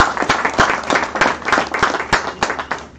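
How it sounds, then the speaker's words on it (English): An audience claps a round of applause at a live business meeting, a steady patter of hands close by that swells and fades over about three seconds with no talking over it. "Let's give a round of applause."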